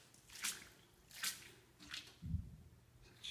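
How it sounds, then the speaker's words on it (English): Footsteps sloshing through standing floodwater inside a flooded testing center, four soft wet splashes at a slow walking pace, close but quiet, with a low thud between them and no talk. "You can hear me sloshing everywhere."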